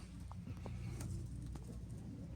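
Pigeons coo faintly at a live pigeon auction, with a few soft, short calls heard against a steady background hum and distant noise.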